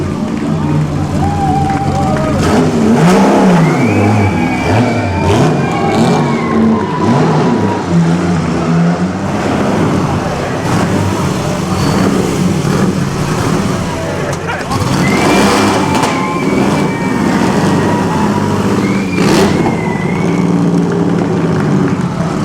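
Vintage race cars at the Mille Miglia rev their engines nearby, rising and falling in loud bursts under constant crowd chatter and people talking.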